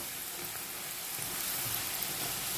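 Soft, continuous crackle of food frying in a pan, with faint scraping as pieces are stirred and turned over; quiet and even, no voices.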